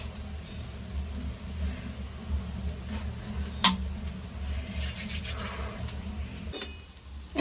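Food roasts in a pan over a fire before being ground on a grinding stone, giving a steady soft sizzling and rubbing noise with one sharp knock midway and a faint tone near the end.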